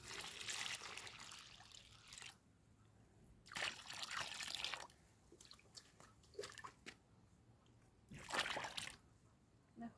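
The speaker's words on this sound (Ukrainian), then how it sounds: "Так, виливаємо в ямку." Water is poured into a garden planting hole for a hydrangea. Three gushing pours come in bursts with softer trickles and drips between them, close by.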